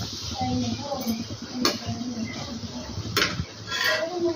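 Grated pumpkin frying and being stirred in a pan, with steady scraping and clinking of a utensil against the cookware and a couple of sharper knocks over a faint sizzle.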